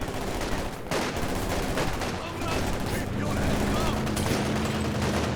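Gunfire from a stolen Kubel in Company of Heroes 2 rattles as dense, continuous bursts within a loud wartime battle din, with engine drone and a voice talking over it.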